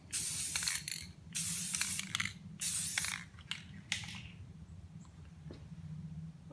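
An aerosol spray can coats a car headlight during a hazy headlight repair, giving four loud close hissing bursts of about a second each, then quieter clicks and faint background.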